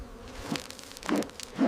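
Honey bees buzz around a managed beehive in several short rising bursts, with faint wing hum between them, fairly close.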